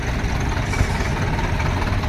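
A tractor engine idles nearby with a loud, steady, even rumble and broadband mechanical noise that holds constant throughout, with no voices.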